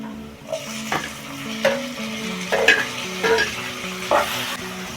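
Chopped tomatoes frying in oil with a pinch of turmeric, for puri uppittu, sizzling close and loud while a spatula scrapes and stirs the pan in repeated strokes every second or so.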